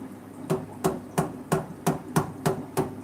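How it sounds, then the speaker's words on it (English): Hammer taps on a PVC pipe in a fish room, knocking it back into place: about eight sharp, evenly spaced knocks, close and fairly loud, with no talking. "what do you need a hammer for? Oh, to get this thing back in its place."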